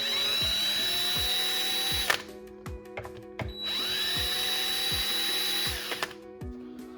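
A power drill fitted with a T27 star bit backs two screws out of an Echo X-Series weedeater, whining in two sustained bursts over a rhythmic ticking clatter, heard close up with no talking.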